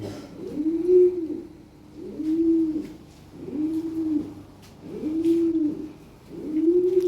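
A red Lahori pigeon coos in a steady rhythm, five rolling, moderately loud coos spaced evenly about every second and a half, close by and with no other sound.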